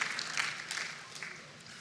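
Crowd applause for Jacksonville at a welcome home celebration for a NASA astronaut, a steady wash of many hands clapping at moderate volume throughout, fairly distant and even with no voices on top.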